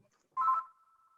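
A brief electronic telephone-style tone signals an incoming call from a wireless caller during an online meeting: a short buzzy burst followed by a thin, steady lingering tone, with no talk.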